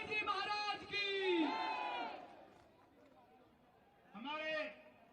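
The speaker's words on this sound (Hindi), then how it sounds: "अपने स्थान पर खड़े होकर के सभी ताली बजाएंगे, अभिनंदन करेंगे माननीय योगी आदित्यनाथ जी" A political rally crowd in Faridabad cheers to welcome Yogi Adityanath. Loud massed shouting and chanting comes in two bursts separated by a quieter pause.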